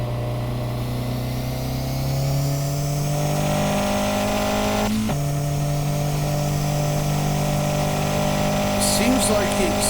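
Car engine in the Revhead game holding a steady droning rev throughout, with a brief shift-like dip midway and a voice talking over it.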